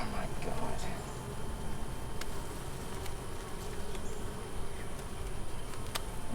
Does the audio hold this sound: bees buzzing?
yes